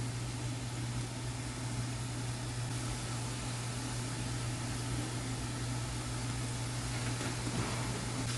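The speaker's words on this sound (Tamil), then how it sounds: "இப்போ இதே மாதிரியே போட்டு நல்லா பொரிச்சு எடுத்துக்கலாம்" Butter murukku frying in hot oil in a Tamil home kitchen, a steady low bubbling hiss that stays even and continuous throughout, with no talk.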